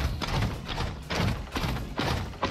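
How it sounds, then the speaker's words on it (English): Heavy, thudding footsteps of Reinhardt in Overwatch 2 fall in an even walking rhythm, each step a loud clanking stomp repeating about every half second. "Okay, Reinhardt, walking normally"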